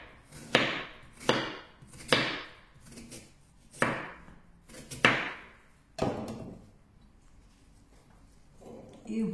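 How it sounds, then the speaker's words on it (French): A knife cuts apples for an apple tart on a board: about seven crisp, sharp chopping strokes at an uneven pace, close and clear, then quiet. "Et on va commencer à découper les pommes."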